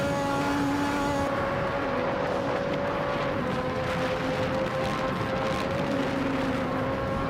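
Classic 1988 F1 cars, among them a McLaren, race at Imola in a video game: a steady, droning engine whine holds at a constant pitch with faint tonal shifts, moderately loud and with no talk over it.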